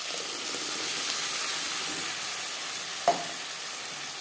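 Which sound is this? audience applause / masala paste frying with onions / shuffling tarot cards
masala paste frying with onions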